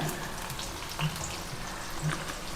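Curry leaves frying in hot oil for a chilli chutney make a faint, steady sizzle with soft crackles, heard alone.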